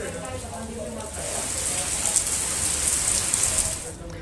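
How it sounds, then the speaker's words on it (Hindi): Heavy, continuous rain in Lakhisarai, Bihar, pouring down as a dense, steady hiss of drops on surfaces that swells slightly and stays loud throughout. "लखीसराय में आज सुबह से ही लगातार तेज बारिश हो रही है"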